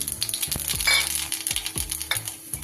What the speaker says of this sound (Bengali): এই বড়ি ভাজার তেলেই দিয়ে দিচ্ছি একটু কালো জিরে ফোড়ন